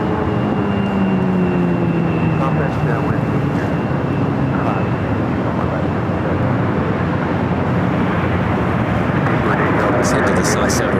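A British Airways airliner, flight 282 bound for London Heathrow, takes off at LAX with a steady, loud roar of jet engines filling the whole stretch, a faint tonal whine drifting underneath.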